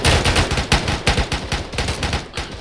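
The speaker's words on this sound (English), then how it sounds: "Taking fire." Gunfire during a military field training exercise, a rapid stream of loud overlapping shots and bursts close by, continuing with uneven rhythm throughout without pause.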